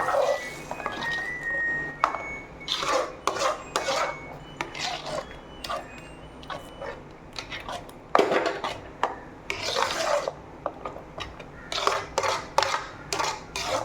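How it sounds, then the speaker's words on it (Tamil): A spoon stirs mango kheer with roasted almonds and cashews in a pot, giving soft irregular scraping and rubbing strokes with occasional light clinks against the metal, close and fairly quiet. "இப்போது கிண்டி விட்டுக்கலாம்."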